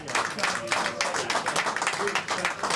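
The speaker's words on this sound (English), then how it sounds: "So give yourselves a round of applause" A community crowd at a grand prize draw breaks into dense, sustained clapping that fills the whole stretch, with voices mixed in underneath.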